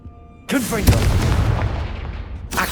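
Confringo fire blast spell in the Hogwarts Legacy video game, a sudden loud booming burst that rumbles and fades over about two seconds, followed by a second blast starting, close and dominant.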